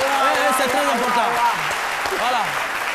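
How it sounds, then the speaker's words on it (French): Steady applause fills a studio audience space throughout, loud and continuous, with a voice talking over the clapping. "trêve d'applaudissements"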